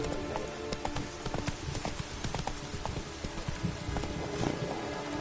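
Roach, Geralt's horse in The Witcher 3 video game, trotting with rapid hoof clip-clops in a steady rolling rhythm over a constant ambient bed.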